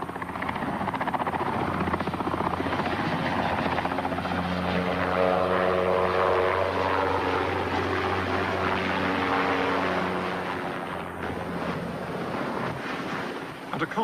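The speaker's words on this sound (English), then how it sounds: "virtually all police patrols are flown in by Wessex helicopter" Wessex helicopter flying a police patrol in Northern Ireland, a loud, continuous rotor and engine drone heard from inside or close by, with a swelling tonal whine midway and wind buffeting throughout.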